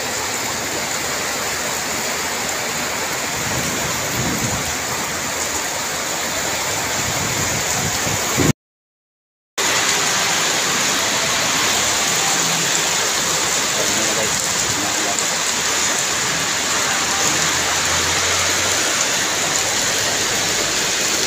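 Heavy rain with big drops pouring down steadily at close range, a dense hissing roar mixed with splashing runoff along a clogged drainage channel, briefly cut off by a moment of silence, with faint voices underneath.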